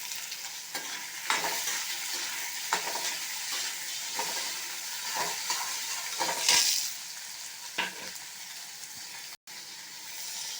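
Onions sautéing in a pan with golden-fried urad dal while making a chayote chutney, a steady soft sizzle with repeated scraping stirs of a spatula close by, no talk.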